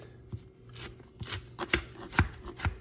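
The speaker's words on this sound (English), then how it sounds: "Just chop it all together and bring it back in" A knife chopping a salad of egg, bacon, tomato and jalapeño on a board, a run of uneven close thuds and crisp cuts that come faster and louder toward the end.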